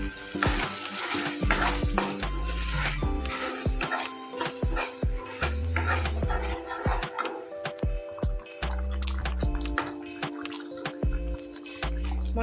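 A spice masala for egg curry with peanuts and tomato fries in a pan while a spatula stirs it. Continuous sizzling mixes with repeated scraping and stirring strokes, close and fairly loud, with no talking.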